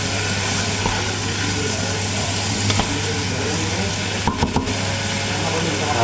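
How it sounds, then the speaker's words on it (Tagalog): Food frying in a pan as it is stirred, a dense, loud, constant sizzle with a low steady hum beneath and a few quick clinks of a utensil near the end. "Haluin natin mabuti."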